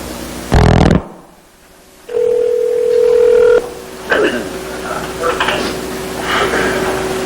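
A telephone dial tone on a recorded, intercepted cell phone call: a steady flat tone lasting over a second after a burst of noise, followed by faint tones and line noise.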